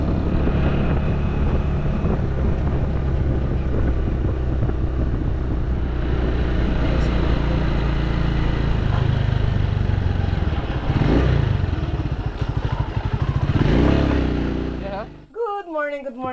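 A small grass cutter engine runs continuously in an outdoor farm setting, a loud steady motor drone with wind buffeting the microphone, holding for most of the stretch before cutting off abruptly near the end as a voice begins speaking.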